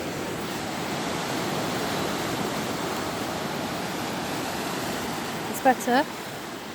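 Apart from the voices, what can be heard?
sea waves against a cliff at Flamborough beach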